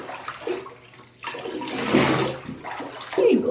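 Water pours and splashes while a dog is rinsed during a bath, with gentle scooped pours coming in uneven bursts close by and no talking.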